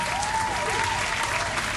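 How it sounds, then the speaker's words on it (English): Steady applause from a studio audience at the close of a show, dense clapping throughout with a whistle-like tone gliding over it, no talk. "Can we get one last round of applause for all our comrades that came on the show today?"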